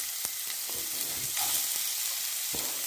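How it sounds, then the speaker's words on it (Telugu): Chopped onions fry in hot oil in a kadai, a steady close sizzle filling the whole stretch with a few sharp crackles and spatters breaking through. "ఆయిల్ హీట్ ఎక్కిన తర్వాత ఆనియన్స్ వేసుకుని వేయించుకోవాలి"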